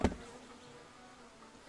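Bees hum steadily around an open hive in the taiga while frames are worked, a dense close drone with a brief louder burst at the start and no talking.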